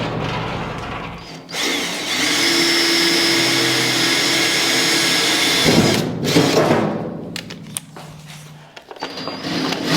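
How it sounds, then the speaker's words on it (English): A loud power drill whines steadily for several seconds drilling holes in a car floor, then stops, followed by rattling and scraping of metal bits nearby. "now we're going to drill a hole in a perfectly good floor"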